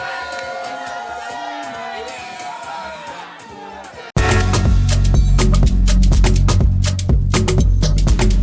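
A crowd at a Yoruba family Ileya (Eid) celebration bursts into loud cheering and applause after a stretch of announcer-style talk, with a dense, sustained burst filling the second half.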